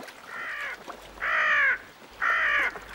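A crow caws three times in a slow, evenly spaced series, harsh and close, in a French animated film.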